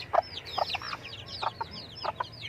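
A chicken gives a series of short, soft clucks in uneven bursts, with thin high chirps in between, against a quiet background.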